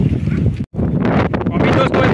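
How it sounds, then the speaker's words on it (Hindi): Strong, gusty wind on a cloudy, stormy day roars and buffets the microphone in a continuous rush, broken by one brief dropout, while a person talks over it. "अभी दोस्तों इतना जोरों शोरों से हवा चल रही है"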